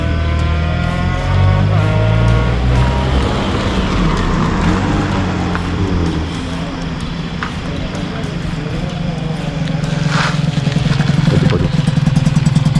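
A custom-rebuilt Kawasaki RR150 motorcycle engine runs close up, its pitch rising and falling as the throttle is blipped, and it grows louder and rougher toward the end.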